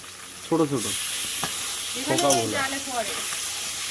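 Lote fish fry in hot oil in a home kitchen, a continuous bright sizzle and hiss that persists while someone talks over it in short bursts.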